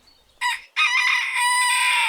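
A rooster crows loudly and close by, a short opening note followed by a long drawn-out call, with no other sounds.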